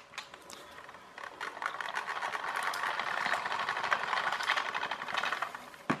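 A string-wound clockwork motor from a toy drives a small car, its fast ticking whir building and holding steady as it runs along, ending in a sharp click.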